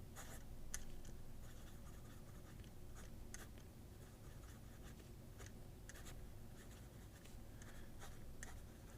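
A fountain pen with a number 6 steel stub nib writing on paper: a faint, continuous scratchy rasp with small quick ticks and strokes, close up and without any talk.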